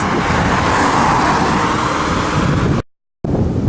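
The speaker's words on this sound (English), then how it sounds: "I'm waiting for the traffic to clear so I can cross." Road traffic passing beside a cemetery on a windy day makes a loud continuous roar of vehicles and wind buffeting, which cuts out abruptly for a moment near the end.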